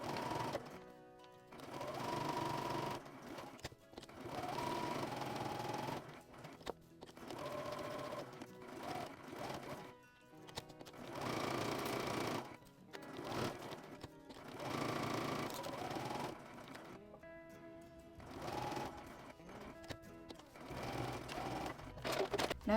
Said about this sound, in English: Now you need to sew all around, leaving little gap in here to turn it.